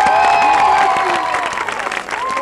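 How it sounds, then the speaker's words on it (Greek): Greek studio television audience clapping and cheering together, a dense burst of applause that starts loud and gradually thins out. "εδώ χειροκροτάμε έτσι"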